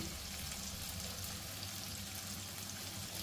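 Eggplants with masala, green chillies and curry leaves sizzle steadily in hot oil, a dense even frying hiss close up with no voices.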